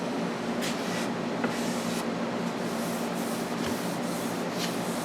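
Wood stain being rubbed onto pine end grain, a steady soft scrubbing hiss with faint repeated strokes, close and continuous, no voices.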